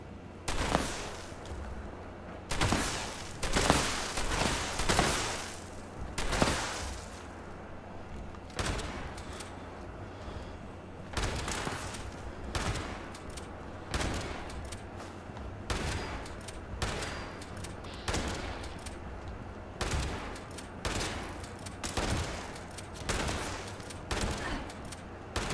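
Rapid bursts of gunfire in Fallout 76, repeated volleys of shots in quick succession with brief pauses, loud and sharp throughout.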